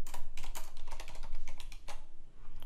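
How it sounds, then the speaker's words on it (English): Rapid, uneven keystrokes on a Mac computer keyboard, close and clear, a steady burst of typing with short pauses and no voices. "Type your question, edit."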